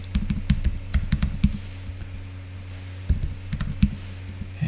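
Bursts of typing on a computer keyboard, rapid clicky keystrokes in two clusters separated by a short pause, close and clear over a steady low hum.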